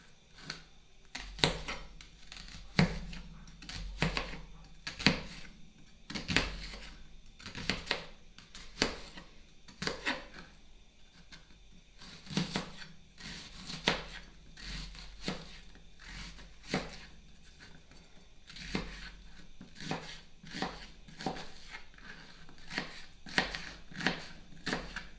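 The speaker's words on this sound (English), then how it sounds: "And I'm going to chop up my onion." A knife chops an onion on a cutting board in sharp, fairly regular strokes, close and clear, with brief pauses between bursts over about twenty-five seconds.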